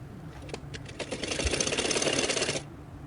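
An electric sewing machine stitches a kameez seam, starting with a few short taps, then running in a fast, steady whir for about two seconds before stopping, close and moderately loud.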